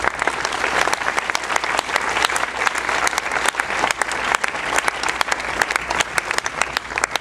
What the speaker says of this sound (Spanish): Démosle nuevamente, por favor, fuertes aplausos.